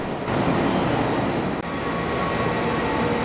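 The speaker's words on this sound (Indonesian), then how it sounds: "Melintas kereta api 962A." Train 962A rolling past on the line as a long-distance service, a loud, steady broadband rumble of wheels and cars close by, continuous for the whole stretch with one brief dip midway.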